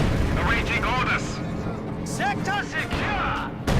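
A field gun barrage pounds German Grenadiers in a 1v1 Company of Heroes 2 match, the muffled booms of artillery rolling under a commentator's continuous talk.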